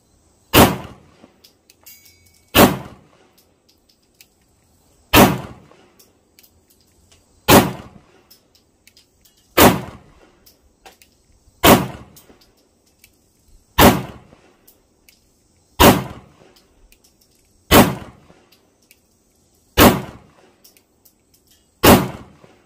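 Pistol shots from a Taurus G3C compact handgun fired at a target seven yards away ring out loud and alone, about ten sharp reports evenly spaced roughly two seconds apart.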